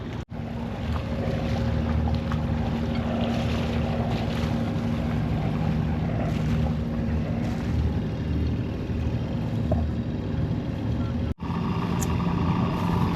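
A boat motors steadily along towing a dinghy behind it, giving a continuous loud engine and water rumble with wind buffeting the microphone. Two brief dropouts interrupt it, and there is no talk.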